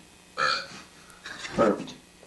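A loud burp erupts in a comedy stand-up bit, followed by a second, lower, longer belch-like sound a moment later, both fairly close and standing alone without talk.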